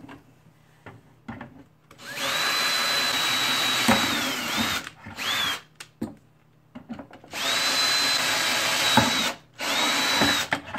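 A power drill bores holes through a plastic skylight dome in two long, loud, steady bursts. Short pauses and bumps of handling noise fall between the bursts.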